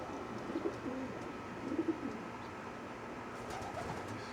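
Racing pigeon cooing in a loft, soft low coos in two short bursts over a faint background hum, fairly quiet and close.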